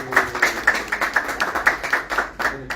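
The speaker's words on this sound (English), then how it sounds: "Let's give a round of applause" Clapping at a memorandum of understanding signing ceremony between ITS Indonesia and Unitsky String Technologies, a fairly sparse, steady run of individual claps from a small group, moderately near.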